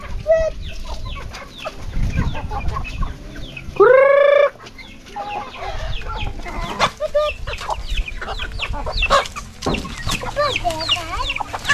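Backyard chickens cluck and squawk busily at feeding time, with dense overlapping calls close by and a loud rooster crow rising briefly in the middle.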